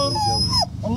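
Dog whimpering and whining in a high, wavering voice, reacting to the Islamic call to prayer, with a sliding cry that dips and rises again, close and fairly loud over a faint tonal background.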